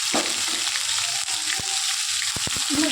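Oil crackles and spatters steadily in a pan of frying vegetarian chana masala after salt goes in, a continuous close sizzle broken by several sharp pops.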